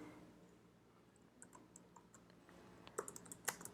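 Someone types code on a computer keyboard, beginning with sparse, soft key clicks and building to a denser, louder burst of keystrokes near the end, with no talking.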